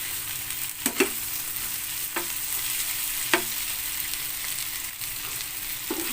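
Leftover fried chicken frying in a pan gives a steady close sizzle, broken by several sharp scraping stirs at irregular intervals.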